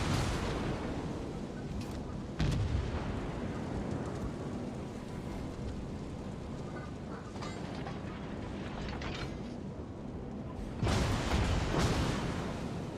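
Naval gunfire from warships in World of Warships: Legends, including the battleship Yamato, rumbling as heavy booming salvos with sharp louder blasts near the start and again toward the end over a continuous low battle din.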